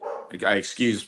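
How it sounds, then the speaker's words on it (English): Two loud, close barks from a dog in a home office, reacting to a cat outside, with a brief voice or yip just before them. "Please excuse my dog."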